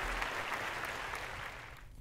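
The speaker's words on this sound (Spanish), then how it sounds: "Un aplauso amigos" Steady, dense applause from an audience greets news of finally earning a driving licence, a continuous wash of clapping with no talk that thins and fades toward the end.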